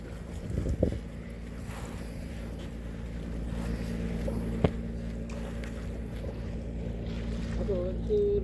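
A fishing boat moves across the sea nearby, its engine a steady low drone mixed with wind buffeting. Voices talk over it, and a sharp knock sounds near the middle.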